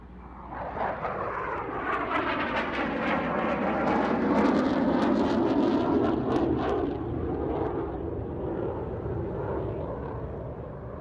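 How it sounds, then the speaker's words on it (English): A heavily loaded Eurofighter Typhoon jet flies a display at the Farnborough International Airshow, its loud, continuous roar swelling as it passes and then easing off slightly, with no voices. "Flying today showing a heavily loaded Typhoon"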